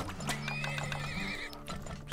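Horses whinny and neigh in the strategy game Turmoil, a long wavering call over steady clip-clop of hooves and a low droning background.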